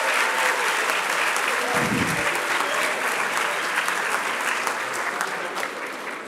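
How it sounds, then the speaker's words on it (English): Loud, sustained applause from a large audience at a medical school Match Day ceremony, steady clapping that continues throughout and tapers slightly at the end. "Can I have a round of applause for the faculty and staff here in the back?"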